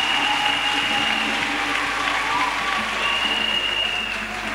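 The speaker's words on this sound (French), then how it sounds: "Clap for Jesus." A church audience claps for Jesus in sustained, dense applause that fades slightly toward the end, with a faint crowd murmur beneath.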